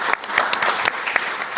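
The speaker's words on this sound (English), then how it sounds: "Round of applause for Nico." Short bursts of audience applause ring out at a conference session on edge AI after a presentation ends, with a few sharp individual claps standing out from the steady clapping.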